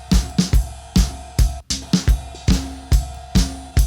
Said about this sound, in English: this is the drum. Complete. Sound like this.